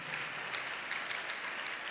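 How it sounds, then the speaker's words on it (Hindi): A congregation clapping hands during a church gathering, a dense, steady patter of many palms at moderate distance that keeps going without a break, with no clear speech on top. "ताली बजा के परमेश्वर करें।"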